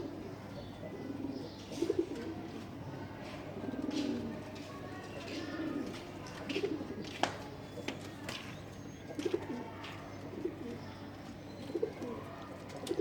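Pigeons coo in soft, low, repeated rounds at a pigeon farm in the evening, several birds overlapping at close to middle distance, with occasional sharper chirps and clicks over a quiet background.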